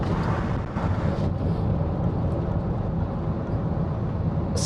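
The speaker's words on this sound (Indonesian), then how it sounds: "Ini samping kita truk nih, kita tes buka kaca." Steady traffic roar from passing vehicles, including a truck alongside, comes through an open window of a moving 2014 Nissan Grand Livina XV on a busy road, with continuous broadband rumble and wind buffeting throughout.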